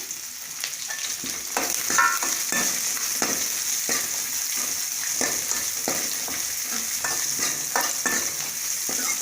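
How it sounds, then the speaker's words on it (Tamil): Sliced shallots and curry leaves fry in hot oil with mustard seeds for a green gram dal curry, a loud continuous sizzle broken by repeated scraping stirs of a spoon in the pan, close up and without talk. "அதுக்கப்புறம் நம்ம கட் பண்ணி வச்சுருக்க சின்ன வெங்காயம், கருவேப்பிலை சேர்த்திக்கலாம்"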